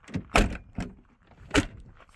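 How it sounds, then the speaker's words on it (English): The driver door of a 1990 Dodge Grand Caravan, raised up on a lift with its front suspension being worked on, closes in a few close, solid thumps and clunks, with a faint metallic rattle and no talking. "Kind of pull on the door to get it to shut"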